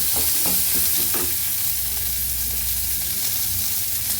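About twenty peeled garlic cloves sauté in a pan for a pirandai kara kuzhambu paste, giving a loud, steady hissing sizzle up close, with a few spatula scrapes near the start and no talking.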